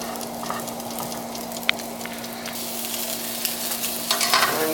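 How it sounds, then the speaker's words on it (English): Tuna searing in a hot pan alongside asparagus, a steady loud sizzle with brief scrapes and spatters, growing more intense toward the end, with no talking. "The tuna is going to cook fast here, about 90 seconds a side or so."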